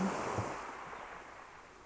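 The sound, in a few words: ocean waves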